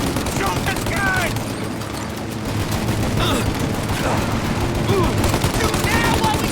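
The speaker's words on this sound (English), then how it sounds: "Shoot out their gun when there's a break in the fire!" Heavy gunfire rattles through a shootout in the Mafia video game, with dense, overlapping bursts of shots continuing steadily and loudly throughout, while faint voices come through underneath.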